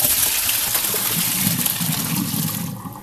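Running tap water splashes steadily over salted zucchini being rinsed, a close continuous gush that fades slightly at the end.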